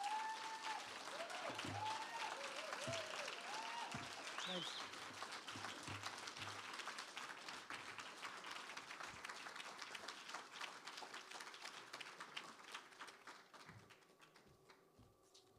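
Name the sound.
audience applause after faculty talk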